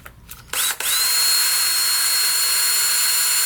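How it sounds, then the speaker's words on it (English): A power drill spins up sharply after a couple of short starts, then runs at a loud, steady high whine close by while working on a steel golf club shaft. "Get our drill."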